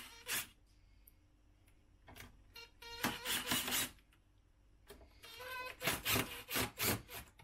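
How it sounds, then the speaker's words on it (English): Screwdriver working screws out of the metal end cap of a GIANDEL 5000W inverter, giving repeated scraping, rasping turns in short bursts with pauses between, close and fairly loud. "I've got the old screwdriver, and let's go for this end cap."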